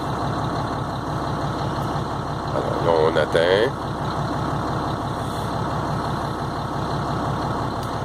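A truck engine idles at a steady low rumble while its air compressor builds brake pressure, a continuous mechanical drone with a brief hiss-like burst in the middle; someone speaks French over it.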